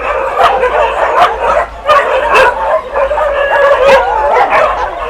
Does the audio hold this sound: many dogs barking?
yes